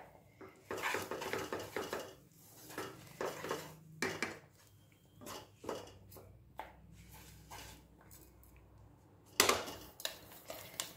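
A metal spoon scrapes and clinks against a pan as a crushed mixture with sesame seeds and coconut is stirred in over a lit gas flame, with irregular bursts of scraping separated by short quiet gaps.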